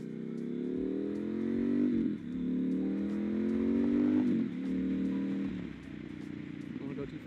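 A motorcycle engine, not a Harley, revs and holds a loud, steady drone with rising pitch sweeps, dipping briefly between pulls, close and continuous for several seconds.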